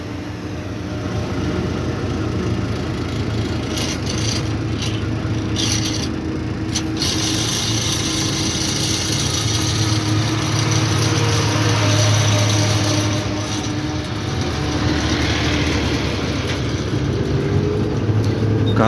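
A truck laden with sugarcane, heading to be unloaded in Surat, rumbles along with a steady low engine drone and broad road noise, continuous and fairly loud throughout, with occasional faint rattles.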